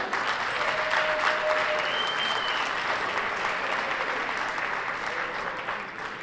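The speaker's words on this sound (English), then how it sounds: "Ladies and gentlemen, a round of applause for Mr." Wedding guests applaud at a reception, a broad steady wash of clapping from a crowd that holds for several seconds before tapering slightly, with a brief tonal squeal from the sound system.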